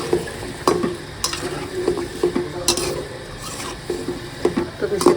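Sweet pumpkin is stirred and fried in spice masala with green and dried chilies, a spatula scraping and knocking in irregular strokes over a soft sizzle, close by, with a little background talk.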